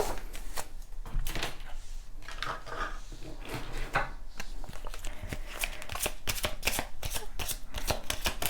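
Tarot cards are shuffled in quick, crisp riffling bursts, with individual cards snapped and drawn between them, close and fairly quiet with no talking.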